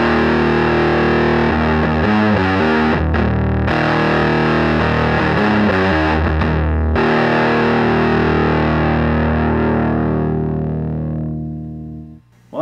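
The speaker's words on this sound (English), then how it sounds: "Well, that's the Big Muff setting, plenty of fuzz." An electric guitar played through a Full Custom Music Barnacle Fuzz pedal on its Big Muff setting churns out a loud, thick fuzz tone, chugging riffs giving way to a long sustained chord that slowly fades.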